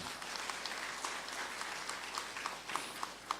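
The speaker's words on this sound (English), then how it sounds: "A big round of applause for all of you." Applause from the audience at a 10th anniversary ceremony and leadership podium event, a steady wash of clapping at moderate distance with a few sharper individual claps standing out near the end.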